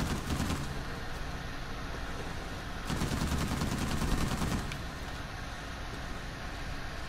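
Rapid gunfire rattles through an Uncharted 4 firefight, dense automatic bursts at moderate distance with two heavier volleys standing out, under constant background noise and no talk.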